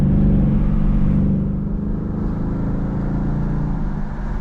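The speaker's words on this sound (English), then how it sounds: "The thing I love about this Coyote engine, it just loves to rev out" A Ford Mustang Mach 1's Coyote V8 drones loud and sustained from inside the cabin, holding a steady high-rev roar with a slight dip and rise, no voices over it.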